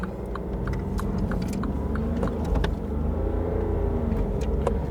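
Small diesel car engine heard from inside while driving: a steady low rumble with mild rises in revs, close and continuous, with faint clicks over it and no talk.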